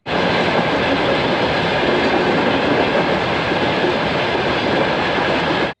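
A train rolls steadily over an unguarded railway crossing without barriers, its loud continuous rumble and wheel clatter filling the whole stretch close by.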